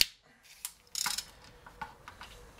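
Bolts being undone on a Peugeot 207 BE4 gearbox: a few sharp metallic clicks and ratcheting bursts, the loudest around the middle, close by in a quiet workshop.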